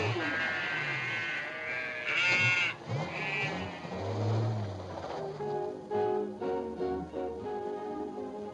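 Several sheep bleat repeatedly, overlapping calls near and far, with a soft patter in the background.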